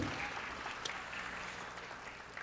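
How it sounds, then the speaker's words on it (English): Audience clapping for a class of two-year-olds at an early learning center Black History program, a fairly faint, steady patter of applause from a crowd throughout. "Let's give our two-year-olds another hand of applause."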